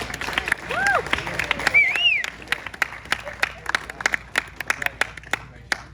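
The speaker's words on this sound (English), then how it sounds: "they deserve a big round of applause" Wedding guests applaud the newlyweds, a spread of scattered hand claps running through the whole stretch with whistles and cheers rising over it early on and voices murmuring underneath.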